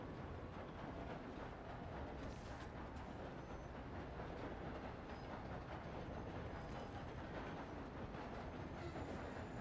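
A train rolls along in the video game Red Dead Redemption 2 on a RedM server, a dense continuous rumble with faint clattering from the wheels that stays steady and loud throughout, with no voices.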